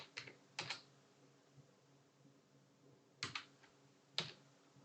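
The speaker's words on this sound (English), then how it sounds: "Maybe I'm just typing too fast." Keys on a computer keyboard clack in short, sparse clusters of quick taps separated by quiet pauses, close by and soft.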